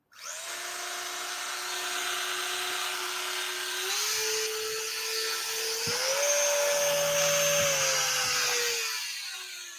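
An electric motor on an RC model aircraft is throttled up to a loud, steady high-pitched whine that steps up in speed twice, holds, then eases off at the end.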